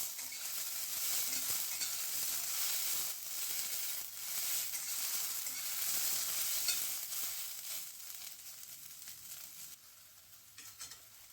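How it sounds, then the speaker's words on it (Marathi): Green peas sauté gently in a pan over low heat, a soft, steady sizzle with faint stirring scrapes running continuously and fading slightly toward the end, with no talking. "आता 1-2 मिनिटांसाठी मंद गॅसवरती आपण हे परतून घेऊया"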